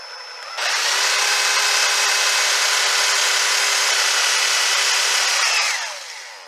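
A power drill with an oiled bit whirs at high speed for about five seconds, loud and steady, then winds down.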